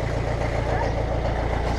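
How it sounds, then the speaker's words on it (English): Old 64-year-old Massey Ferguson tractor engine idling close by, a steady low rumble with even, rapid pulsing throughout, loud and continuous with no pauses. "I filmed your tractor. It's an old one."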